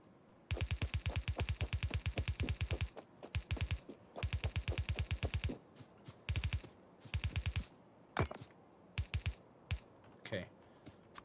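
Automated gun turrets in Factorio fire in rapid, evenly spaced volleys, a run of loud, close bursts separated by short pauses that grow choppier toward the end.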